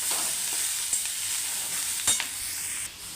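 Onion, tomato, green chili and curry leaves fry in a pan, giving a steady bright sizzle throughout, with a couple of louder spatters and occasional soft scrapes of stirring.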